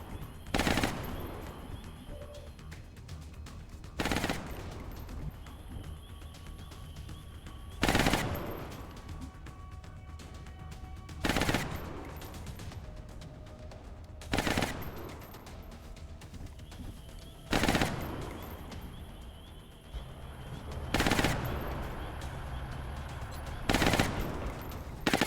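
Covering gunfire in the Long War mod of XCOM, sharp loud bursts repeating roughly every three seconds over a quiet ambient backdrop with faint bird-like cooing, no talking.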